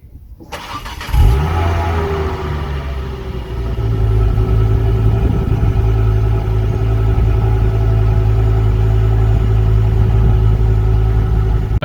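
Ford Focus ST cold-started with a brief cranking whir and sharp catch, then settling into a loud, steady, close idle with a deep low rumble that holds for ten seconds.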